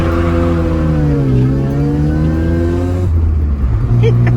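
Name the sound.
1984 Mazda RX-7 GSL supercharged 13B rotary engine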